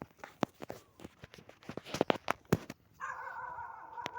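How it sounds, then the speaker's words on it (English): A dog gives a string of sharp, irregular barks and yips at a moderate distance, followed by a steadier tonal whine or whimper near the end. "There's also a dog over there"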